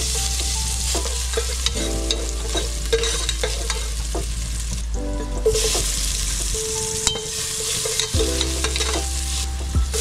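Garlic, ginger and onion fry and are stirred in a pan for a cobia larang, giving a loud, steady sizzle with scraping stirs, accompanied by background music.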